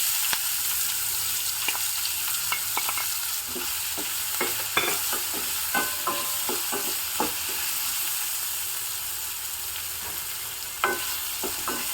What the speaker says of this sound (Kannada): ಒಂದು ಮೀಡಿಯಂ ಸೈಜಿನ ಈರುಳ್ಳಿಯನ್ನು ಸಣ್ಣದಾಗಿ ಹೆಚ್ಚಿರೋದನ್ನು ಹಾಕ್ತಾ ಇದ್ದೀನಿ